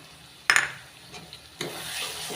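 Whisked yogurt hits hot oil in a pan of Kashmiri achari chicken, giving a sharp sizzle burst that fades into softer frying, then another stirring scrape and renewed sizzle near the end.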